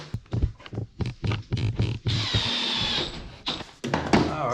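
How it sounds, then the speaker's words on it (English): Power drill driving screws back into a cabinet door, close by: several short bursts of motor whir, a few separated clicks and knocks, then one longer sustained drilling run of about a second before a final short burst. "Now we'll go ahead and put these screws back in on this side."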